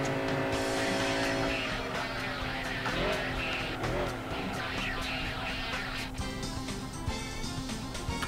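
A Subaru Legacy in the Gran Turismo 2 racing game braking hard into a turn: a loud, continuous engine drone with tires squealing and skidding as revs shift, close and steady throughout.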